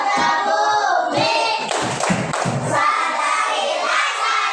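Children clap along in a rhythmic chant during an environmental 'save the earth' classroom routine, bursts of patterned hand claps mixed with young voices chanting and shouting, close and lively throughout.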